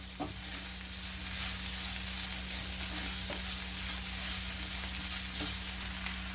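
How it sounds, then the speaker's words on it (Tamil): Onions sizzle and fry in hot oil with a constant bright hiss, broken by a few soft scrapes of a spoon stirring, and an electrical hum underneath. "இன்னும் கொஞ்சம் வதங்கினா போதும் வெங்காயம்"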